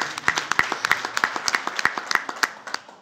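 An audience claps in sustained applause after a recited zajal poem at a retirement tribute for a teacher, many hands beating in a dense, steady patter with sharp individual claps standing out, with no voices over it.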